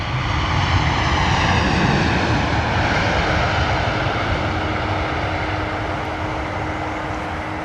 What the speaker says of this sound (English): Another beautiful landing from Virgin Atlantic.